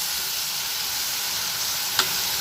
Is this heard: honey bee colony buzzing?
no